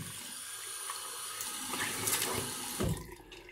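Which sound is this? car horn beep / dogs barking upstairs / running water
running water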